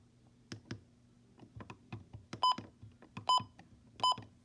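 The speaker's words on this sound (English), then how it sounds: "The button beeps are on." Short electronic beeps from the buttons of a Midland HH54 weather radio, three distinct tones mixed in among soft clicks and taps from handling the device up close.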